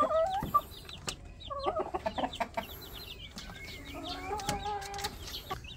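Hens on a small chicken farm clucking and murmuring close by, a scatter of short repeated calls over soft barnyard background noise, with chicks and other birds faintly mixed in.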